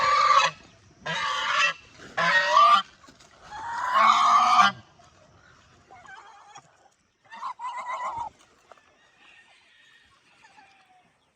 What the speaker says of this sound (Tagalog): pati yung gansa natin